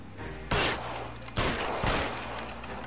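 Three sharp, loud gunshot bursts ring out in a shooter video game, spaced unevenly over a few seconds against a low background hum.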